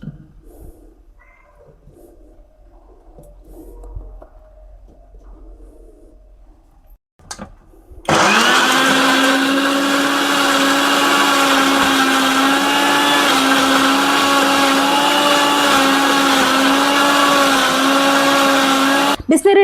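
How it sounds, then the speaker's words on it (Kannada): A mixer grinder whirs loudly as it grinds four tomatoes and some onion in a village kitchen, starting abruptly after quiet background sounds and running steadily at a high constant pitch until cutting off. "ಮಿಕ್ಸರ್ಗೆ ಹಾಕಿ ಗ್ರೈಂಡ್ ಮಾಡ್ಕೊತಿದ್ದೀನಿ."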